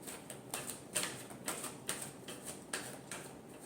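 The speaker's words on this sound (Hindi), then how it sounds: "last shuffle" A deck of tarot cards is given a last shuffle, producing a series of crisp, close riffling snaps and flutters in an uneven rhythm, with no one speaking.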